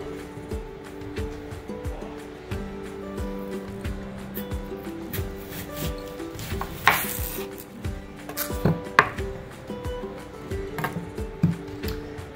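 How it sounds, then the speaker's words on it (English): A kitchen knife slices the stem end off an onion on a cutting board, giving a few crisp cuts and knocks against the board amid steady background noise, with no talking. "start by cutting the stem end off, leaving the hairy root"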